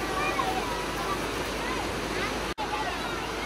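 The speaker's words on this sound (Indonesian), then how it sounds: "lumayan kuat arus aliran sungainya ini" The strong current of the Koto Rawang river in Pesisir Selatan, West Sumatra, rushes past in a loud, continuous broadband roar, with the flow sounding close by and steady throughout.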